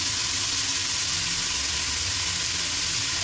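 Tomatoes sizzle and fry in a pan for methi pulao, a steady, close crackling hiss with no voices.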